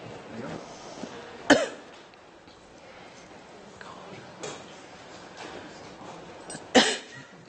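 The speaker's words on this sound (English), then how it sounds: "Just going to cough through it" Two sharp, loud coughs stand out a few seconds apart against a quiet room with faint shuffling and soft background noise.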